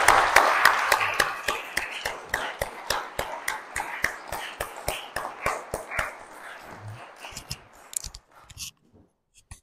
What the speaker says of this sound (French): je pense qu'on peut applaudir Olivier Millet